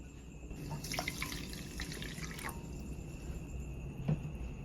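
A cup of water is poured into a pan of sugar for syrup for a raw mango pickle, a faint short trickle and splash close by, followed by a quiet drip.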